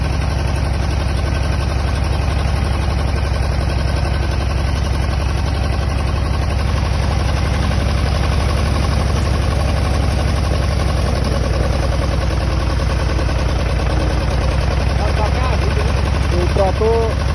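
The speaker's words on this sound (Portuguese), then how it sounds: "O trator vai empinar aí," Farm tractor engine running at a steady, loud low rumble as it crosses a river, with constant vibration and occasional voices over it.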